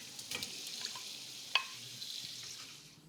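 A spoon stirs plum tomatoes sizzling in a pan, a soft steady frying hiss with light scraping clicks and one sharp clink of utensil on the pan midway.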